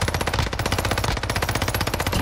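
A video-game machine gun fires a rapid, continuous stream of loud, evenly spaced shots, close and dense, with no talk.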